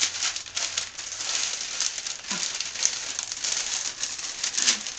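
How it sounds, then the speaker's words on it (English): Foil or paper is crumpled and pressed by hand in a kitchen while food is prepared for the oven, giving a steady crinkling texture with small rustling bursts at close range. "Crumple, crumple, crumple."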